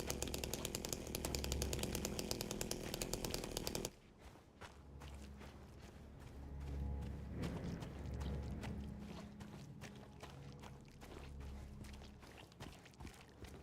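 A chainsaw in the Silent Hill 2 (2024) remake revs loudly at first, then gives way to game footsteps and clanking mechanical sounds.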